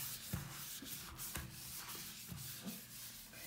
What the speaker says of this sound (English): the grime and soap scum is wiping all off